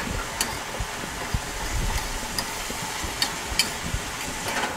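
A soft, steady sizzle from a pan with scattered light ticks and pops, continuous and fairly quiet throughout.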